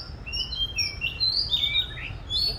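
Several bright, high chirps and short whistled calls from a caged oriental magpie-robin, close and fairly loud over a low steady background hum, with no talking.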